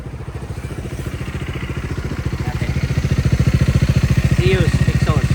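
Bajaj Dominar 400 motorcycle with a Zeus aftermarket exhaust idling close by, a steady loud pulsing rumble that grows slightly louder toward the end.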